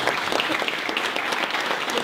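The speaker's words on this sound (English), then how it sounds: "let's give Tim Busche a big round of applause" An audience at a B2B marketing talk claps in a dense, even burst of applause that fills the short moment at moderate loudness, with no talking over it.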